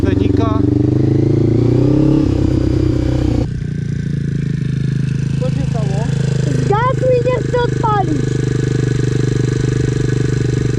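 Quad ATV engine with a weak battery being started and revved, a loud steady motor drone with rising revs running throughout, with scraping and clatter on top.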